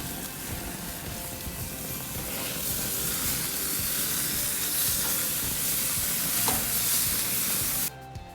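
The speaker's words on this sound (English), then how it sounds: "The grill is ready at about 400 degrees because I like it really nice and hot. We're gonna put the lamb chops down." Marinated lamb chops sizzle on a hot grill at about 400 degrees, a loud, dense, continuous hiss and crackle, close up and steady throughout.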